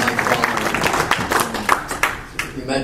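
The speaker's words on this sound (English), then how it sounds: "I recommend a round of applause for what that scope looks like" A room of members at an amateur radio club meeting gives a round of applause, dense irregular clapping with a few louder claps, tapering off toward the end.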